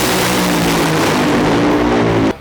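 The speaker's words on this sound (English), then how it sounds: "This is a top fuel dragster which is driven with nitromethane." A nitromethane-fueled top fuel dragster engine roars loudly and close, a harsh, dense, continuous blast with a throbbing low-pitched undertone that cuts off abruptly at the end.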